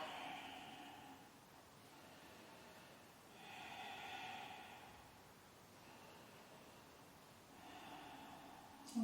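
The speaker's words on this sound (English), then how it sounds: "Breathing in as you come forward," Slow, deep breaths during a yoga exercise, with three or four soft, drawn-out breathy swells spaced a few seconds apart, faint and close against quiet background hiss.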